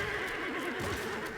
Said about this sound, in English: It definitely sounds like a horse.